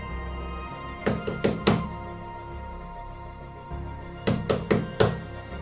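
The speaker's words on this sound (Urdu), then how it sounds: "استاد کے گھر کا دروازہ کھٹکھٹایا" Someone knocks on a house door in two clear bursts of four raps each, crisp and close, separated by a pause.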